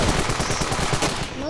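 Rapid machine-gun fire in the Ravenfield video game, dense overlapping shots pounding steadily and loud throughout a short burst.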